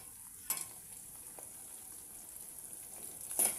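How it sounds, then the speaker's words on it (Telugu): Fenugreek dal frying in a pan gives a steady, faint, hissing sizzle, with a couple of brief clinks of a spoon against the pan near the start and end. "బాగా ఇది ఒక రెండు మూడు నిమిషాలు వేగనివ్వండి"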